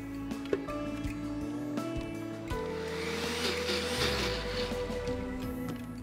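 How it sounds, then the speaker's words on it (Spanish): Blender blending hummus, starting with a low whir and then rising into a louder, steady churning motor drone that holds close and continuous. "Y luego volvemos a licuar."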